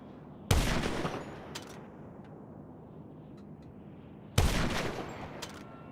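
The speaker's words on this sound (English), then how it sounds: "Imagine I shoot this poor pedestrian." Two loud gunshots ring out in GTA Online as a pedestrian is shot, each blast followed by a long echoing tail, with a steady hum of background noise between them.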